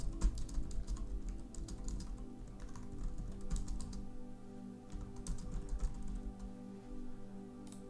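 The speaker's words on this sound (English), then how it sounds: "Let me type on Twitter." Steady stretch of typing on a computer keyboard, rapid irregular key clicks close to the mic over a low background hum, no talking.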